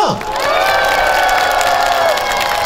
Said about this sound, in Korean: 여러분 힘찬 박수로 환영합시다